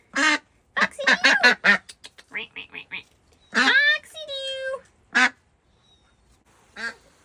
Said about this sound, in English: Duck, you're so pretty.